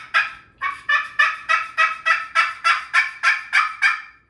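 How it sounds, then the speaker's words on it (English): Turkey pot call worked with a striker, giving a run of about a dozen evenly spaced, close, loud yelping notes with no other sound behind them. "Each one of these strikers make a different noise on the different pot calls."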